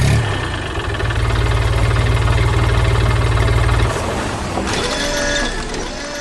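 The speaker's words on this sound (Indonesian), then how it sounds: "Mesin kuning sedang memotong kayu dengan gergaji di tengah semak belukar dan pohon-pohon." An animated yellow machine works through brush and trees, sawing wood with a loud, steady mechanical engine rumble that eases and shifts in tone partway through.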